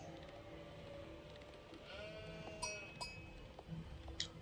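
Sheep bleat in an Age of Empires 4 match between Mongols and Japan, with a couple of short, moderately loud bleats over quiet game ambience and faint clicks.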